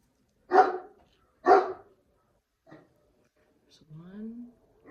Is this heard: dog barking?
yes